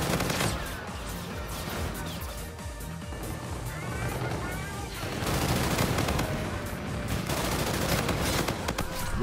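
A VPR weapon in Call of Duty: Infinite Warfare fires loud, sustained automatic bursts in a shooter match, the rapid crackling shots running almost unbroken over the game's ambient noise.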